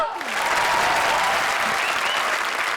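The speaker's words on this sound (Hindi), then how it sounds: "तो हो जाए जोरदार तालियां" Loud, dense applause from a comedy show studio audience rises quickly and holds steady as a continuous roar of many hands clapping together.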